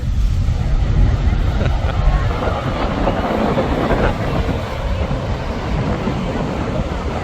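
A small plane roars past low and close over Maho Beach, St Martin, a loud, steady broadband rumble with wind buffeting the microphone throughout.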